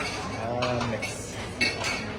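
Cutlery stirs food in a dish during a Cairo street-food meal with cumin, garlic sauce, vinegar and lemon, giving soft scraping clinks over a steady busy background.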